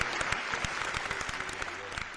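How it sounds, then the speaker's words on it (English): A small group claps at the end of a sit-down interview, a brisk run of sharp, close hand claps for a couple of seconds with a low murmur beneath. "round of applause one time"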